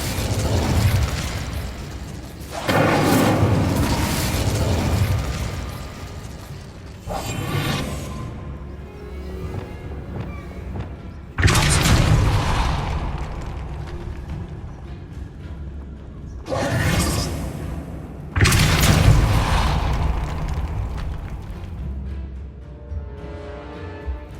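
Incendio fire spell effects in the video game Hogwarts Legacy: several loud bursting whooshes of flame, each a sharp blast trailing into a crackling roar, repeated in clusters with brief gaps between.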